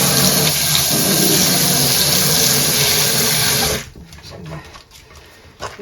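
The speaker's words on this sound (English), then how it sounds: "I'm just going to gently rinse this through a couple of times, then I can hang it up to dry" Hand-dyed yarn rinsed under a running tap, a loud continuous gush of water for several seconds that stops abruptly, leaving faint drips and handling sounds.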